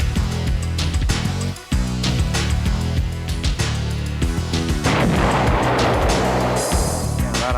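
Explosions from bombs dropped by jets during Desert Storm, a loud, dense series of booms and blasts with thick rumble throughout, rising into a hissing, crackling roar toward the end, with no talking.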